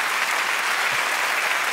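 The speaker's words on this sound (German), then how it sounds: "für diesen frenetischen Applaus" Enthusiastic theater audience at the 3sat Festival in Mainz claps frenetically for a comedian, a dense, loud, continuous roar of hands with no individual claps standing out.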